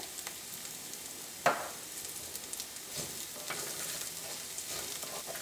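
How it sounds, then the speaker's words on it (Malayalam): Turmeric powder frying in hot oil over a medium flame, a soft steady sizzle with a sharp clink of a utensil early on and faint scraping stirs, fairly quiet and close. "ഇപ്പോൾ മഞ്ഞൾപ്പൊടി എണ്ണയിൽ കിടന്ന് നന്നായിട്ട് മുരിഞ്ഞിട്ടുണ്ട്."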